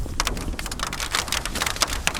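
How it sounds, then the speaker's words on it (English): Rain drums on a tarp in a steady, close patter of irregular drops with sharper individual hits scattered throughout. "Ooh, that's the rain coming down."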